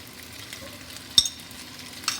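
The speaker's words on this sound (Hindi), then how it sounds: "अब इसे मिक्स कर लेंगे।" Black pepper chicken stirred in a pan, a quiet background with one sharp scrape of the utensil near the middle and a softer clink near the end, no voices.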